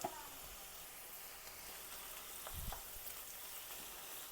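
Garlic and ginger stir-fried in sunflower oil with onions for a chicken, broccoli and carrot stir fry, a quiet continuous sizzle with a couple of soft utensil knocks near the middle.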